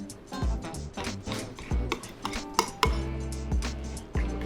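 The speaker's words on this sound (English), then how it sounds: "We're gonna stir that together." Crème fraîche and shio koji being stirred together in a bowl, a spoon knocking and scraping against the bowl with irregular clinks and taps, close and fairly quiet, no voices.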